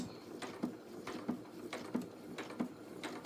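A sewing machine stitches along the edge of fabric for a lined doll jacket with tails, producing a soft, regular mechanical chatter with evenly spaced pulses repeating about every two-thirds of a second, close and moderately quiet.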